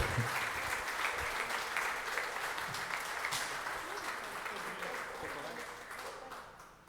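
Church congregation applauding in praise during a worship service, a sustained crowd of clapping at moderate distance that slowly fades over several seconds, with faint voices mixed in.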